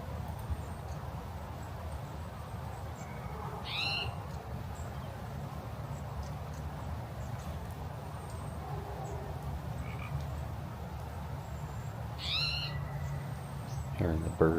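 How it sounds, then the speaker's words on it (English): Frogs croak in a low steady chorus on a dark, stormy February night in Oregon, with a few brief bird chirps rising above it and distant rain or wind underneath. "Hearing the birds and the frogs."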